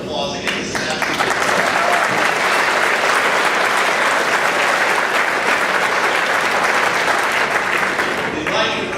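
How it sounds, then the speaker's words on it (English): An audience at the Cascade High School Blue Ribbon ceremony gives a loud, sustained round of applause that stays strong for most of nine seconds before thinning out at the very end. "Give yourselves a big round of applause again"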